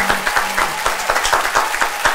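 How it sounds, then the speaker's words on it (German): A studio audience at a comedy show claps for Mr. Big in a steady burst of applause, with individual claps audible close up and no one speaking over it. "Mr. Big klatschen."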